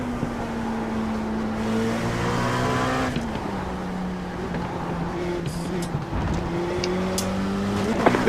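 Race car at speed on the track during an IMSA race in Miami, its engine a loud, sustained drone that drops in pitch around a shift, with whooshes of other cars passing.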